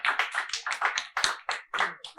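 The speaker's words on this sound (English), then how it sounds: "Let's put our hands together for ourselves." Conference attendees clap in a quick, regular rhythm of about nine distinct claps, each sharp and separate, close and fairly quiet.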